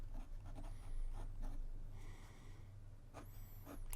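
A Montegrappa fountain pen with a 1.1 stub nib writes on smooth Rhodia paper, making faint, close scratchy strokes in short bursts separated by brief pauses.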